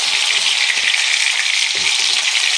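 Fish pieces frying in hot oil for a Zika curry, a dense, steady crackling sizzle that stays loud and close with a few faint scrapes underneath.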